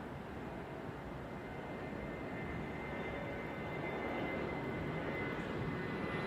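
An Airbus A321 airliner rumbles faintly in the distance at an airport, a steady low engine roar that swells slightly toward the end.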